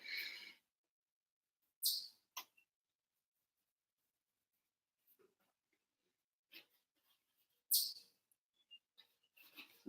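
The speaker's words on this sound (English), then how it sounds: "You know, it is springtime when the birds are chirping." Spring birds chirp in scattered, quick bursts, a few sharp high calls separated by long stretches of quiet, fairly faint and with no one talking.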